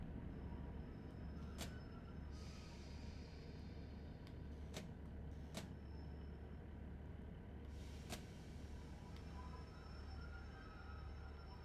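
Simulated commuter train on a Manchester Airport route in Train Sim World, braking into a station: a steady low rumble of running gear with a few sharp high clicks and a thin squeal, at a constant level, with no talking.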